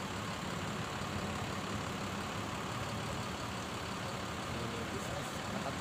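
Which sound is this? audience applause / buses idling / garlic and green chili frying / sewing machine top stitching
buses idling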